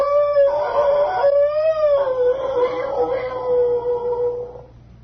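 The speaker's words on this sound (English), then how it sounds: "God, it's a timber wolf." A timber wolf howl used as a radio sound effect: a loud, sustained, wavering cry that rises and dips several times over about five seconds, then fades out, heard alone.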